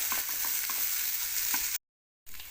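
Cluster beans sizzle in a pan as they are stirred and sautéed, with a soft, steady frying hiss and light scraping strokes, a brief silent gap, then the sizzle resumes.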